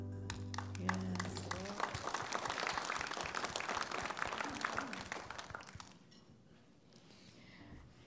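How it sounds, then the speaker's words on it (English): A church congregation applauds after a gospel song, with a burst of steady clapping rising after a held organ chord, continuing several seconds and then fading into quieter room sound. "Yes, I heard those claps."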